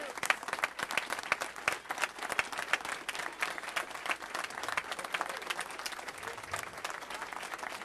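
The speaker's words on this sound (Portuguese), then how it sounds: "Continue aplaudindo, aplauda, aplauda" An audience claps at a religious event after a police sergeant sings, dense, continuous applause that stays loud throughout while a voice speaks over it.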